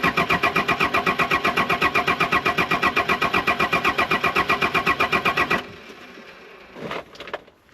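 A Daihatsu Fourtrak engine cranks over steadily for several seconds in a fast, even rhythm without catching, then stops, leaving quiet with a few faint knocks.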